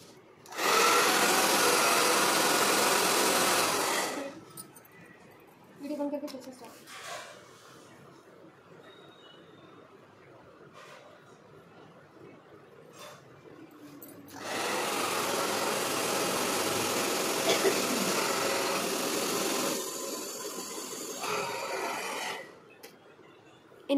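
Handheld blow dryer drying hair during a haircut, blowing from top down; a loud steady broadband roar runs for about four seconds, drops away, then returns for roughly eight seconds near the end.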